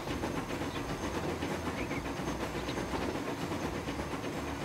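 A steam train runs in the Transport Fever video game on a route near the Great Lakes in Canada, giving a steady, continuous rumble and hiss with no pauses.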